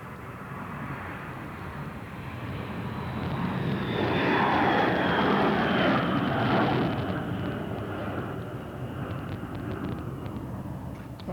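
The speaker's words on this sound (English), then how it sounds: "And the third and final plane now taking off." B-52 bomber taking off in 1999 during NATO's Operation Allied Force, a loud roaring jet engine rumble that swells to a peak midway and then slowly recedes, heard alone without speech.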